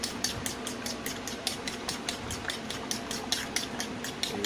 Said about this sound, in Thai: จะใส่ไข่ลงไป ไข่ก็มาตีนิดนึง